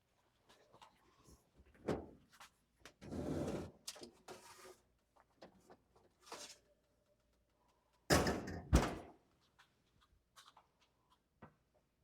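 Oven door being opened and handled to take out a batch of old-fashioned Southern tea cakes, a few scattered thunks, clatters and sliding knocks at low level in a quiet kitchen.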